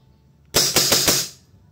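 A WE G17 gas blowback airsoft pistol fires four rapid shots in a quick magazine dump, each a sharp close crack with a clacking slide, tailing off into a short hiss.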